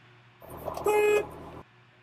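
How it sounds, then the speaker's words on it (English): A truck's city horn blares once, steady and fairly loud, for about a second, with a short stronger burst in the middle, over low engine idle. "I'll check our city horn"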